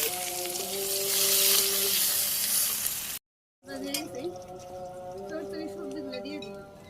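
Chopped onion hits hot oil with cumin seeds in a kadai, a loud steady sizzle that cuts out briefly, then returns with crackling and stirring while a voice talks over it.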